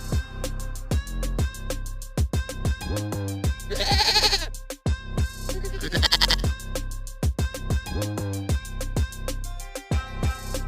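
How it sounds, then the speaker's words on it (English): A goat bleats repeatedly up close, loud wavering cries in a steady series with short gaps between, a couple of breathier raspy calls mixed in. "Goat."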